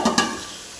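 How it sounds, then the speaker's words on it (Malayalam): Tomatoes and salt being stirred in a pot, with two quick scraping strokes at the start followed by a low steady cooking hiss, no talk. "അപ്പോൾ കുറച്ച് ഉപ്പും കൂടി ഇട്ട് ഇതൊന്ന് ഇളക്കിയിട്ട് നമുക്കൊന്ന് ചെറുതായിട്ടൊന്ന് അടച്ചു വെക്കാം."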